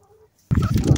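Backyard chickens in their coop cluck and coo in a close, busy burst that starts suddenly after a near-silent moment.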